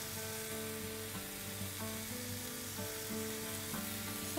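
Prawns stir-frying in olive oil with coriander leaves in a pan give a steady, bright sizzle, with a low, sustained tone underneath throughout.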